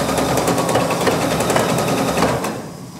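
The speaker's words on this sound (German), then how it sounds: "einfach beherzt nach vorne nähen" Sewing machine stitching forward through the knotted section of a dress, a steady continuous mechanical whir close by that runs for over two seconds before dropping away near the end.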